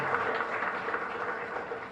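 Church congregation at a live Mass applauding, a dense continuous wash of clapping heard at moderate distance for a couple of seconds.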